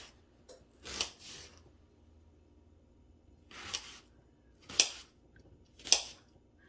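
An apple is cut by hand for carrot apple slaw with a knife on a board, giving several separate sharp crunching chops spaced a second or so apart, close and fairly quiet between strokes.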